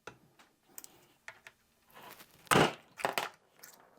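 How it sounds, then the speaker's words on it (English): A pin is pushed out of a Beretta 1301 shotgun trigger group, giving a few sharp metallic clicks and taps followed by a louder cluster of scraping knocks near the end. "I'm going to push this pin right here."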